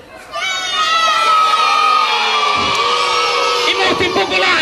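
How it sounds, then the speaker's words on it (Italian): A crowd erupts in a loud, sustained roar of cheering and yelling encouragement, voices rising together and holding for several seconds. "Allora un bel urlo di incitamento"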